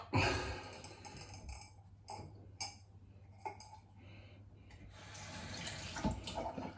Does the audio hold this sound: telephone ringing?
no